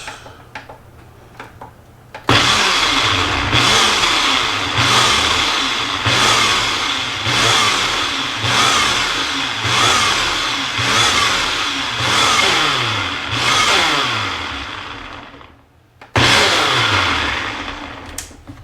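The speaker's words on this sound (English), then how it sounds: "just enough to get this little mix up in the Ninja here. Get that blended up first." A Ninja blender running loud and steady with a mix of partly melted ingredients for Italian bread, its motor holding a pulsing whir that surges in repeated waves, drops out briefly near the end, then restarts.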